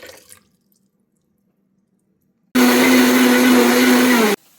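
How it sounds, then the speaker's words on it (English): A blender whirs loud and steady for about two seconds, grinding sprouted buckwheat bread batter with water, after a quiet stretch with no talking. "So you put it in the blender."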